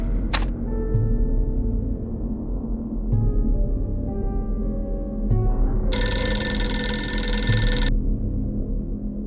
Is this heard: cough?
no